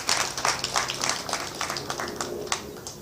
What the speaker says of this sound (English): I think we deserve a bigger clap.